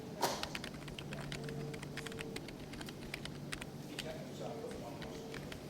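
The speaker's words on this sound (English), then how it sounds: "The receptionist types Barney's name on the keyboard." Rapid, irregular clicking of keys on a receptionist's computer keyboard at a vet's continues steadily, close by, over a low background hum.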